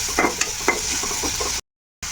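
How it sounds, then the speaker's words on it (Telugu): Garlic, mint and coriander leaves frying in a pan for paneer paratha stuffing, a steady sizzle with several quick spatula scrapes, then a sudden short silence before the sizzle resumes, no voices. "ఇప్పుడు ఎల్లిపాయ వేసాను కదా, ఇంకా పుదీనా, కొత్తిమీర కొంచెం ఇలా వేయించుకొని"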